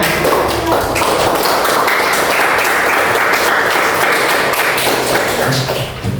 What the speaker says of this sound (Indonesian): Berikan dulu tepuk tangan untuk temannya.